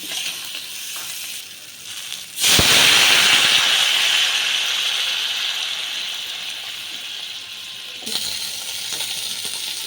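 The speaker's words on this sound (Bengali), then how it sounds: "তো কাঁকড়া সেদ্ধ হওয়ার জন্য আমি জল দিয়ে দিয়েছি" Water poured into hot crab masala in a pan sets off a sudden loud, hissing sizzle that slowly fades as it simmers, with a clatter near the end.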